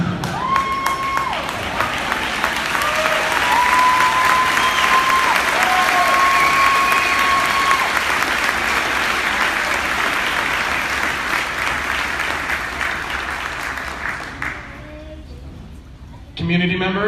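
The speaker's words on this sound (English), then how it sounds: "I'd like you to join me in giving a huge round of applause to Mrs. Langer" A large crowd of community members, students and staff applauds steadily at a Glacier High School graduation ceremony, sustained dense clapping that fades near the end, with voices faintly mixed in.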